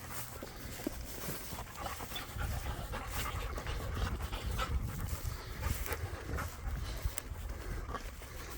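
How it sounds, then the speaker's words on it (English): A dog pants rapidly and close by, quick rhythmic breaths with some rustling and movement around it, near sheep. "The dogs are going to get excited and start chasing sheep."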